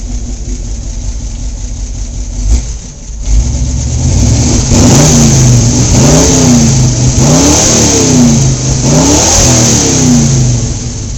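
A 1975 Ford Bronco engine with headers, loud and close, starts at a rough idle and then revs repeatedly in a series of rising and falling blips.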